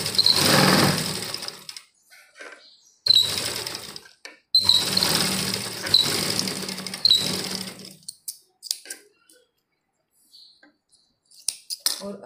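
A sewing machine stitches a seam on a tight-fitting suit, running in several close, steady bursts separated by pauses, with faint handling clicks and snips near the end.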